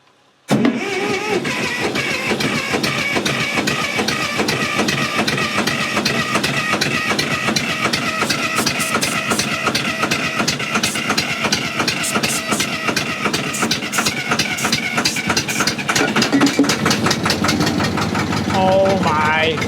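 An old Massey Ferguson tractor engine revived after 30 years runs steadily and loudly, its rough knocking rhythm not settling into a stable idle, with a pitch change near the end and a voice briefly heard.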